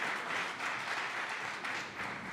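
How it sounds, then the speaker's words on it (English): Audience at a panel session clapping in a brief, steady burst of applause from many people, fairly full and even across its short length. "A round of applause."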